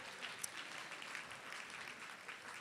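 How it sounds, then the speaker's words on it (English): An audience at a charity event applauds the sponsors with faint, continuous clapping that holds an even level from start to finish. "How about a round of applause for our sponsors again?"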